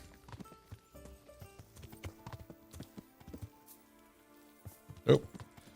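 In the video game Kingdom Come: Deliverance, a war horse's hooves clip-clop in a quick, uneven rhythm at close range, then go briefly quiet before one louder thud.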